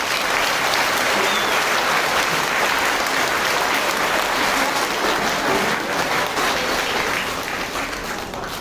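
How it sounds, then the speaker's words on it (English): Audience applause after a children's school concert performance, a dense, sustained wave of clapping from a large crowd filling the hall, loud and continuous before slowly easing. "a huge round of applause"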